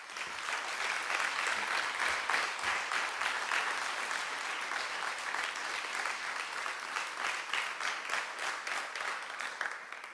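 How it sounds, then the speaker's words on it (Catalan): Sustained, even applause from an audience at a diploma award ceremony, a dense patter of many hands clapping steadily for about ten seconds with no break. "un altre solemne aplaudiment per la directora d'Igualtat del Departament de Treball"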